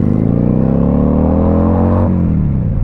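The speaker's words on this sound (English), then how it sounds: "I am riding a Kawasaki Vulcan Classic" A carbureted Kawasaki Vulcan Classic 800cc cruiser motorcycle pulls away, its loud, close engine revving up with a rising drone, then dropping briefly as it shifts and climbs again.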